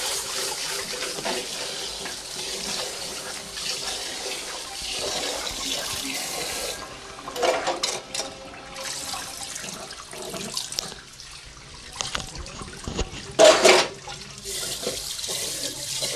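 Rice, four glasses of new grain, rinsed in water for aloo biryani: steady sloshing and pouring close by, with swirling splashes and a few louder bursts toward the end.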